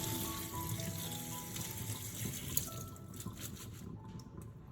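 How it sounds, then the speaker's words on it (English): Shrimp shells and heads rinsed under running tap water, a steady close splashing flow into a sink that thins out toward the end with a few drips. "rinse everything again with clean water"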